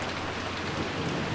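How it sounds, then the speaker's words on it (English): Steady dense rain beats on a window in the Umineko video game, a constant loud hiss with no pauses and no voices. "the raindrops beating harshly on the window were even more concerning"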